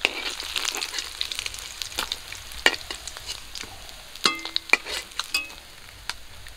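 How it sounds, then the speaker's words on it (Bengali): Snakehead (shol) fish fried crisp in oil in a home kitchen, with a low steady sizzle broken by utensil clinks and scraping taps as the pieces are lifted out, close by with no talk. "মাছগুলো ভাজা হয়ে গেছে, তুলে নেব। মাছগুলো কিন্তু আমি একটু কড়া করে ভেজেছি।"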